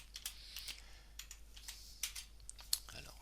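Keys tapped on a computer keyboard, a quiet scattered run of light clicks with a few sharper presses, close and with no talk.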